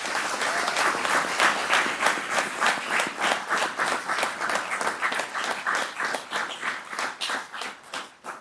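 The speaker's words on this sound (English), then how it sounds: "let's give a round of applause for all the new hires." An audience at a sheriff's office swearing-in ceremony gives a round of applause for new hires, dense rhythmic clapping that settles into a steady pulsing beat and gradually thins out.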